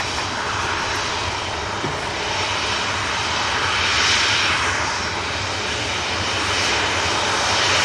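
An EasyJet airliner roars through its takeoff run and rotation, a loud, steady jet engine rumble with broadband hiss that swells and fades slightly, with no talk over it.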